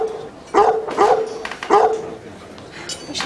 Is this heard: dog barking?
yes